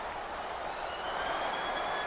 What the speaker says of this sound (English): That's the halftime siren.